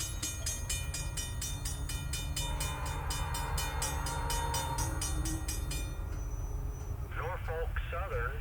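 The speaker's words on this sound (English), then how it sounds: "NS strikes first with a westbound manifest, abundant with power." A Norfolk Southern westbound manifest freight train passes close by with several locomotives, loud and steady: a heavy rumble, rhythmic car clatter and a horn-like tone that eases off, with a voice briefly heard near the end.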